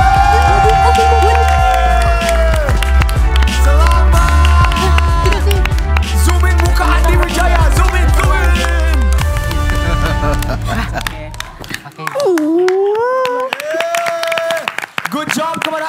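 A crowd applauds and cheers loudly for the winning team at the end of a TWK debate-style competition between Untan and Binus Malang, the cheering dense and sustained before fading into a voice speaking over thinner clapping.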